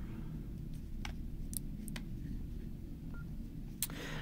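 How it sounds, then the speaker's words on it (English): A Nokia N93i phone is opened, producing a few sparse, sharp plastic clicks and small mechanical snaps, close and fairly quiet, against a low hum. "So let's open up the phone."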